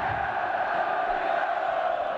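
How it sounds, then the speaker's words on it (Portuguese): Brazilian football stadium crowd at a Goiás versus São Paulo match chants for the champions, a steady, massed roar of voices from far across the stands. "Agora eles gritam, é campeão."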